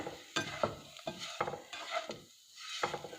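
Lemon poha is mixed in a pan with a spoon, giving a quiet series of short, uneven scraping strokes with brief pauses between them.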